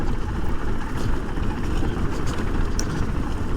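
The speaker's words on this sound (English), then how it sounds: "So 6th gear, just idling down this hill." A 2024 KTM 500 EXC-F motorcycle idles downhill in sixth gear with the throttle untouched, making a loud, steady, rough engine rumble mixed with wind noise and no pauses.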